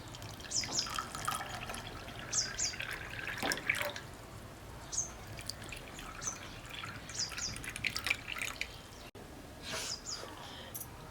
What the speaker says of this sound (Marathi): याच्यामध्ये ना ही माठातलं गार पाणी घालू